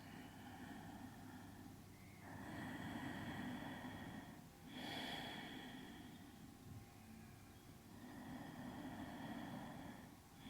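Slow, relaxed breaths in and out through the nose during a gentle yoga stretch, with a few soft, airy swells of inhalation and exhalation and a brief sharper sniff midway, close and quiet.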